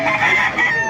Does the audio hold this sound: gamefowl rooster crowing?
yes